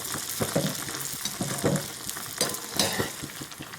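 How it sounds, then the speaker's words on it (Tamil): Chettinad karupatti paniyaram, made with palm jaggery, fries in hot oil in a pan with a steady close sizzle broken by small stirring and ladling bursts, and no talking. "இந்த எண்ணெயெல்லாம் அப்படியே மேலே மேலே எடுத்து ஊற்றினா அது அப்படியே எலும்பி வரும்"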